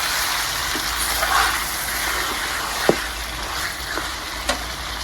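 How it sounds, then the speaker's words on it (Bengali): Soaked catla fish head sizzling and frying in spice paste in a pan, a steady hiss with occasional scraping clicks from stirring. "এখন দিয়ে দিব ভিজে রাখা মাছের মাথা। মশলার সাথে খুব ভালোভাবে মিশিয়ে নিই।"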